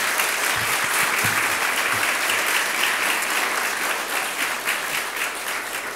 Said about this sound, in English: So please give Don another round of applause as well.